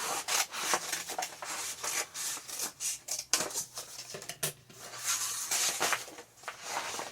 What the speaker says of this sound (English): with a pair of scissors, I'm just going to cut a wavy line